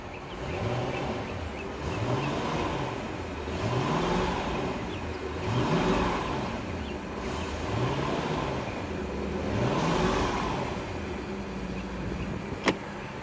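A 2001 Sea Ray 225 boat motor idles in neutral, running on a garden hose, with a steady hum that swells and fades in a slow repeating cycle and a sharp click near the end.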